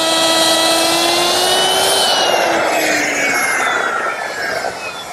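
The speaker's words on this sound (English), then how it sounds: "I'm making it using a 3/8 inch rabbiting bit in my router" A router fitted with a 3/8 inch rabbeting bit cuts a rabbet along the inside of a wooden door frame, giving a loud, steady, high-pitched whine and buzzing cut that runs without a break and tails off slightly near the end.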